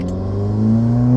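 A pro-tuned Subaru WRX engine pulls under partial throttle, a steady rising drone with strong low harmonics climbing in pitch and growing slightly louder over a short burst.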